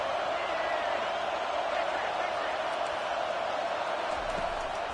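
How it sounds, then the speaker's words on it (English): A stadium crowd roars behind the defense on third down at a football game, a steady, dense wall of noise that holds at full level for the whole stretch. "Decibels rising as the crowd gets behind this defense on 3rd down"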